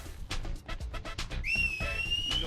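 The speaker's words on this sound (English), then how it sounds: "Oh, wow, he just whistled." Deputy Willie gives a long, clear, sustained whistle in the video game Deadly Premonition, rising then holding steady, heard after a run of footstep-like thumps.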